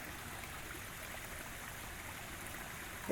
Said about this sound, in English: that water is flowing